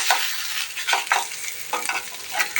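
Freshwater fish fries in a pan, a loud, close sizzle with bursts of spattering and scraping as the pieces are stirred and turned, with no one talking.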